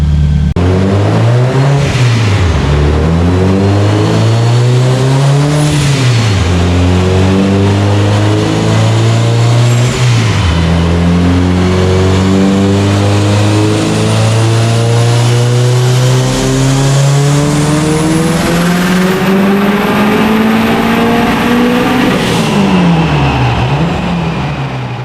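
A stock-motor Subaru Forester XT with a turbocharged engine, wastegate duty raised slightly, makes a loud dyno pull, climbing to redline in several rising engine sweeps with brief drops between them, its harmonics strong and close.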